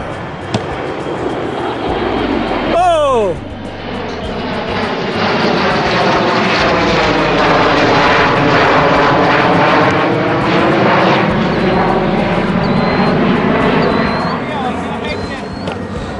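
A fixed-wing airplane passes overhead near a busy airport, its engine roar swelling loud and steady for many seconds, with a brief whistle-like chirp near the start before the roar builds.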